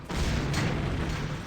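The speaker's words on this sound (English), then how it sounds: "While I am being hit by continuous explosions from off screen" Explosive shuriken blasts in Ninja Gaiden 2, a dense continuous roar of booming explosions that runs almost the whole time, loud and close with a fresh burst partway through.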